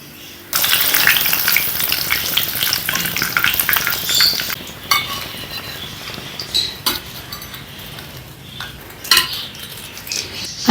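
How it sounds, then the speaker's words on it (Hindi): Chillies fry in hot oil in a home kitchen, a close, steady sizzle that starts abruptly, with scattered clinks and scrapes of a utensil stirring in the pan while the hiss gradually settles. "आपने मिर्चों को फ्राई कर लेना है।"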